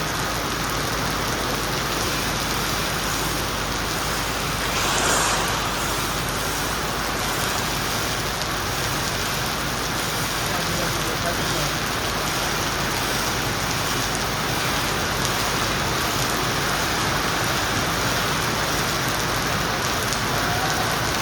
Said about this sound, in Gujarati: ચંદીગઢનો વરસાદ એટલો ધમધોકાર પડે રહ્યો.